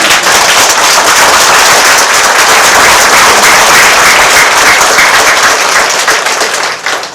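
Sustained loud applause from an audience at a Korean Buddhist lecture and book launch event, dense steady clapping filling the whole stretch before tapering slightly at the end.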